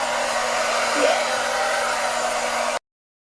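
A hair dryer fitted with a diffuser blows on its cold, fast setting, giving a steady, close whooshing roar with a faint whine that cuts off abruptly near the end.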